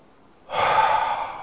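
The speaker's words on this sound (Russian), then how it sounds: "Это дыхание, когда делается три вдоха задержки дыхания и медленный выдох" A breathing exercise of three inhalations, a hold and a slow exhalation, heard as a single close, steady airy breath that starts abruptly and sustains evenly.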